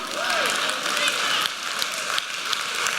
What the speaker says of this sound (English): I'm glad somebody clapped for me.